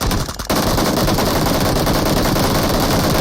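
Loud machine gun fire in the battle royale game PUBG Mobile pours out in a continuous rapid stream of shots after a brief quieter moment at the start.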